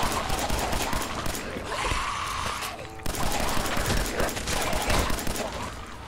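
Pistol gunfire in Fallout 4 cracks out in quick bursts of rapid shots, loud and close, with a short pause in the middle before the firing resumes.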